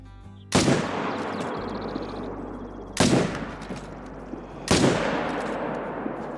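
Three sharp rifle shots from a hunting video game aimed at a running elk crack out at irregular intervals, each loud report followed by a short decaying tail.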